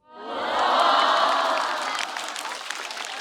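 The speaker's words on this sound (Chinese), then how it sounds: "哎呀呀，还搁那鼓掌！" Studio audience at a Chinese stand-up comedy show bursting into loud, sustained applause mixed with cheering, swelling quickly and then holding steady without any talk over it.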